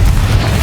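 Confringo spell explosion in the Hogwarts Legacy video game, a loud deep boom with heavy low rumble that fills the short moment on its own.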